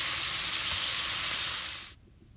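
Shrimp frying in hot oil in a pan, a steady loud sizzle with bright hiss that cuts off abruptly near the end.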